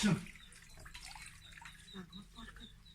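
Food for a Chiang Tung dish made with fish is rinsed in several changes of water, with gentle splashing and trickling close by while someone speaks over it.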